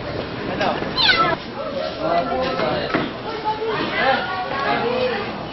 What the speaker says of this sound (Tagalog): Parang pusa nila.